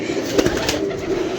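Pigeons coo in a pigeon-keeper's loft, a steady low murmur of overlapping calls with a couple of louder bursts near the start, close by and continuous.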